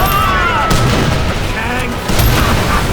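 Battle noise from Mercenaries 2: World in Flames as fire is aimed at a tank, with loud booms and bursts of gunfire packed close together and shouting voices mixed in.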